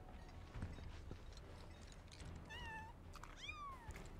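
Cats in Final Fantasy VII Rebirth give a couple of clear, rising meows late in the moment, over quiet game ambience and soft background sounds.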